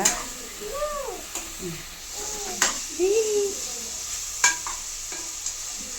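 Vegetables being sautéed in a pan at home, with a soft steady sizzle and occasional stirring scrapes. A few brief knocks break in now and then, and a faint voice is heard in the background.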